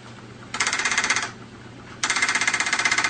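A homemade plywood magnet motor built from nuts, bolts and magnets, switching rapidly in two short bursts of fast buzzing clicks with a pause between, close and fairly loud.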